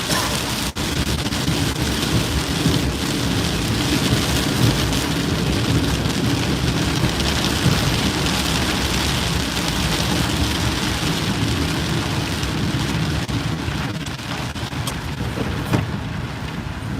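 Continuous rain falling, a broad loud wash of hiss with a low rumble underneath that suggests a vehicle interior, steady throughout with faint taps and no clear voices.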